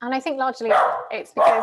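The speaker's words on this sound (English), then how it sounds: "sorry about my dog barking" A dog barks indoors in a living room by the front door at parcel delivery time, short sharp barks breaking in twice behind someone talking close to the microphone.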